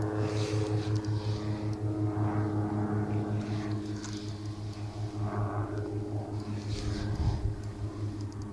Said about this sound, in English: we do have a low flying helicopter going over